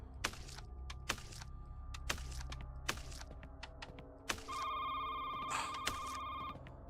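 A telephone rings inside the horror game Shift at Midnight: a steady electronic ring tone sustained for a couple of seconds, preceded by a series of sharp, evenly spaced clicks or footsteps.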